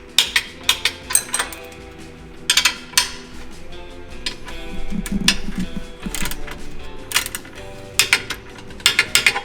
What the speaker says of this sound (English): We're going to torque all 3 bolts to 15 foot-pounds.